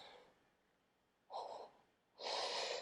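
Two audible breaths during a power yoga session, a short airy inhale followed by a longer, louder exhale, close and breathy with no talking.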